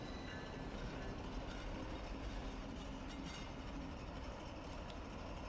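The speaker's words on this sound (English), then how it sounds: "Pretty old-fashioned train," An old-fashioned passenger train running in a point-and-click horror game, with a steady, dense rumble of rolling wheels and rail noise throughout, no speech.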